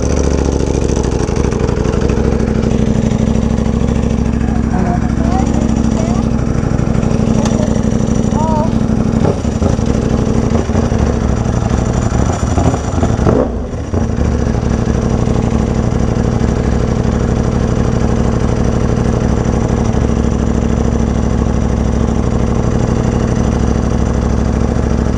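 A Ducati Panigale V4R motorcycle engine idling at a bike event, a loud, steady low rumble running throughout as people talk nearby.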